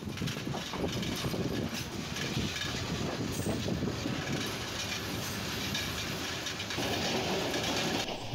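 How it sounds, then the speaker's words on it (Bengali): The Burimari Express rolls steadily along the rails, its wagons rumbling with continuous rhythmic clatter and faint wheel squeal, loud and close from on board. "ডেড স্টপেজ পার হওয়ার পর আমাদের ট্রেনটি আবার গতি তুলে"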